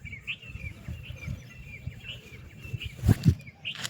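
Birds give repeated short calls at a steady pace, with a few soft thumps near the end.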